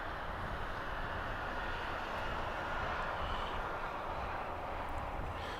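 Jet airliners taking off at Los Angeles International Airport, a steady, broad engine roar that holds at an even level throughout with no voices.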